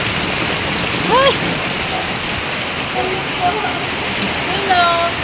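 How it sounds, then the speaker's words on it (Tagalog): A steady downpour hisses loudly throughout at a hanging bridge, while Tagalog voices speak faintly and intermittently underneath the rain. "Grabe ulan guys, ang lakas."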